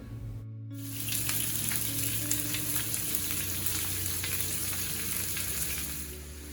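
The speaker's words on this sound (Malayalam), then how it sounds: "ആവശ്യത്തിനുള്ള ഓയിൽ ഒഴിച്ച് കൊടുക്കുക എന്നിട്ട് നമ്മൾ നേരത്തെ കട്ട് ചെയ്ത് വെച്ചിട്ടുള്ള ഉള്ളി ഉണ്ടല്ലോ അത് മൊത്തത്തിലൊന്ന് ഇട്ട് കൊടുക്കുന്നുണ്ട്" Chopped onion hitting hot oil in a pan, a loud steady sizzle that erupts after a brief silence and continues with faint stirring scrapes throughout.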